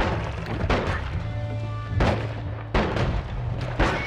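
Repeated booming explosions in the video game Noita, several heavy blasts with rumbling low ends arriving about every second or so over a steady game soundtrack.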